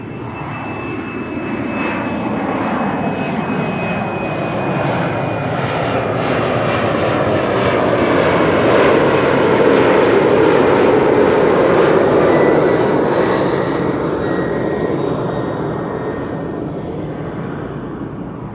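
An Embraer 190 jet at Amsterdam Schiphol Airport gives a loud, steady engine roar that swells to a peak midway and slowly fades as the aircraft passes, with no voices.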